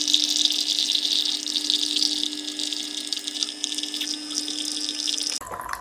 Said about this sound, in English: I think it's fully boiling. Yeah, now the coffee is pouring out.